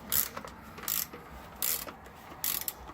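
A Pittsburgh pass-through ratchet working a bolt on an engine valve cover, making four brisk bursts of fine clicking at a steady rhythm, close and crisp with quiet pauses between strokes.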